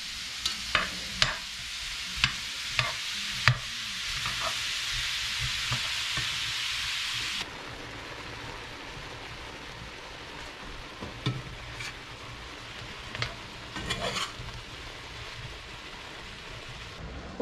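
Shrimp and grits stirred in a pan, a spoon scraping in a steady rhythm over a loud sizzle that drops to a softer simmer partway through, with occasional sharper clinks near the end.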